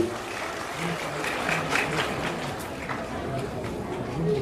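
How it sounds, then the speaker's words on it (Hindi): An audience at a school results-day ceremony claps steadily for students, a moderate even patter of applause with some chatter mixed in. "बच्चों की हौसला अफजाई के लिए जोरदार से तालियां तो बजाएंगे भाई"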